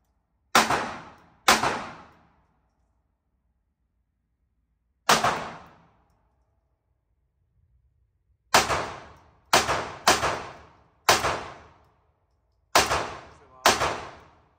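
Single gunshots at a shooting range crack out one at a time, sharp and loud with short decaying tails, two early shots, a lone shot, then a quicker cluster of six with short pauses between.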